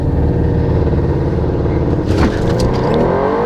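A 750 hp Audi RS7 or 700 hp Nissan GT-R launching hard at about 4,000 RPM in a drag race with heavy wheelspin, a loud, close engine roar that climbs in pitch and surges midway.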